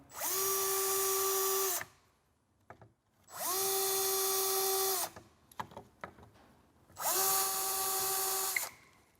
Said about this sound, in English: you need to drill in 3 positions along for the bottom runner